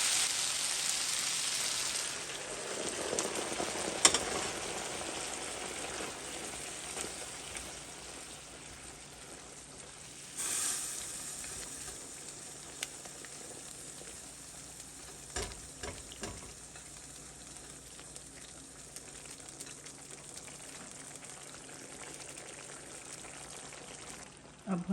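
Chickpeas added to a sizzling, spiced masala paste in a hot pan, starting with a bright pouring hiss, then a steady close frying crackle with occasional stirring scrapes.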